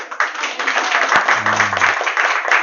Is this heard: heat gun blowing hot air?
no